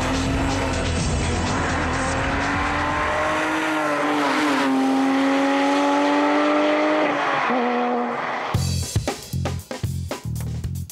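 A Porsche 911 GT3 RS on a race track gives a loud, rising and falling engine note with gear changes, then a burst of tire noise and passing sound from its Cup tires near the end.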